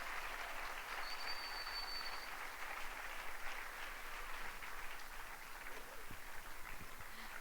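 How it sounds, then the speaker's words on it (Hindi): A church congregation applauding to welcome an evangelist, a steady, dense wash of clapping held at an even level throughout, somewhat distant and reverberant. "जोरदार तालियां बजाकर उनका स्वागत करें।"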